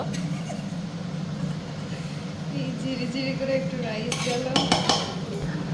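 Plates and dishes set out for serving lunch at home, with light clatter of crockery and cutlery that builds into a cluster of sharp clinks near the end, over a low background murmur.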